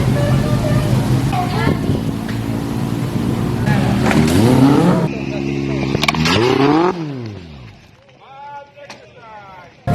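A motorcycle engine revs and rises in pitch in bursts during a small-circle turn test at a motorcycle safety training course, loud and close, with an instructor's voice over it before the engine drops back to idle.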